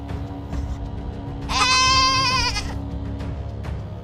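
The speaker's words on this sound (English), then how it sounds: "It sounded like a goat." A goat bleats once, a loud wavering cry lasting about a second, set against a quiet church with a low steady hum.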